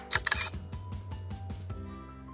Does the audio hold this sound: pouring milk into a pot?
no